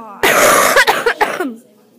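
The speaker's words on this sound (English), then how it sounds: "Cough." A single harsh cough bursts out close by, followed by a few rough throaty sputters that trail off into quiet.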